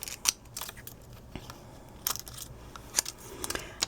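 Scissors snip through a metal-look bling flourish embellishment for a Christmas gift box and card, a few sharp, close crisp clicks spaced out with quiet rustling between, no talking.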